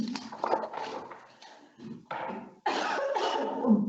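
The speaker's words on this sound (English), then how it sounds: "Excuse me, I'm not allowed to cough." Several coughs and throat-clearing bursts from one nearby person at a council meeting, uneven and clustered, with a brief louder cough near the end.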